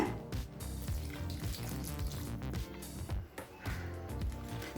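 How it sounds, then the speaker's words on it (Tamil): A cup of water is poured into a pan of white veg kurma, a continuous gushing splash lasting several seconds with no talk. "இப்போ 1 கப் தண்ணி சேர்த்துக்கலாங்க."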